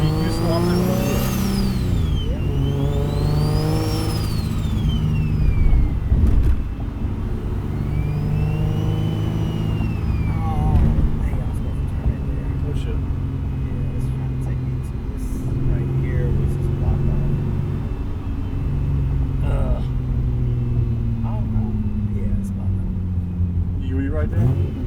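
A single-turbo Nissan G37 sedan revs repeatedly nearby, its engine rising and falling while the turbo whistles and spools up in sweeping high tones, with people talking over it.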